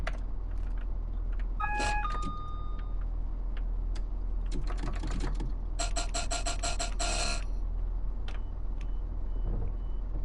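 Train Sim World 6 in-cab signal buzzer: a brief tonal beep early, then a rapid string of buzzing pulses mid-clip over a steady low hum and faint clicks, no speech.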